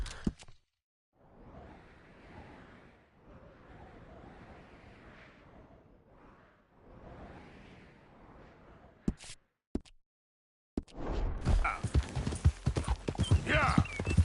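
Rhythmic hoofbeats of a horse in Red Dead Redemption 2, a steady mid-level clip-clop running for several seconds before a brief silence and a burst of louder, busier game noise.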